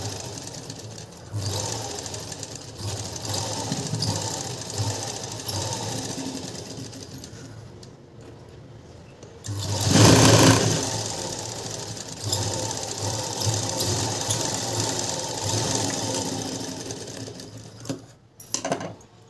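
A sewing machine stitching a blouse lining runs in a steady, close mechanical whir, pausing briefly midway and again near the end before stopping, with no talk over it.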